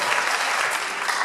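A church congregation at an evangelism gathering applauds Jesus with dense, steady clapping from a crowd, loud and even throughout.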